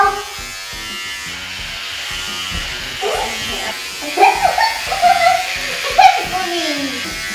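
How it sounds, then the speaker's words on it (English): Electric hair clippers buzz steadily through a home haircut on a man's head, a continuous drone with voices speaking over it in the second half. "I'm going to start shaving my dad's hair."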